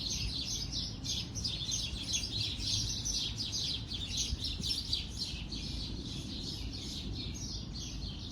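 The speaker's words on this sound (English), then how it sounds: "here come all of the damn birds" Many birds chirp and tweet continuously outdoors, a busy chorus of high calls over a low steady background rumble.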